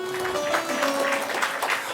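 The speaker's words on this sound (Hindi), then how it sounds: "ताली बजाओ तो दिल से बजाओ," An audience at a Shreemad Bhagwat Saptah religious discourse claps steadily, a dense, moderately loud patter of many hands continuing throughout.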